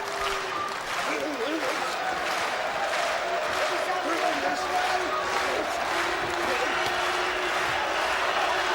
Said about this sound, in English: Slow hand clapping now beginning.